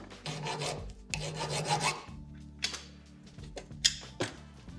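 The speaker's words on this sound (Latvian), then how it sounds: "Bišķiņ pieslīpēsim šeibu" A metal washer is filed by hand in short rasping bursts of strokes, close and fairly loud, followed by lighter scrapes and small knocks.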